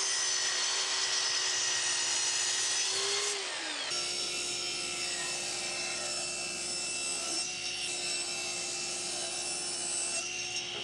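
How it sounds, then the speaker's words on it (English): Saw cross cutting wooden boards for a folding chair, a continuous buzzing cut with a steady high whine that shifts partway through, close and moderately quiet, no talk. "So I'm going to cross cut first and then rip 2 seat sides over at the table saw"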